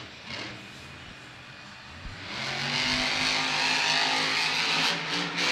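A monster truck competes in a Monster Jam racing and freestyle event. Its engine is quiet at first, then swells into a loud, sustained rev and roar that holds steadily to the end, with no talk heard.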